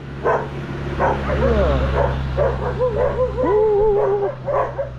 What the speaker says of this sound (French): il y a beaucoup de chiens ici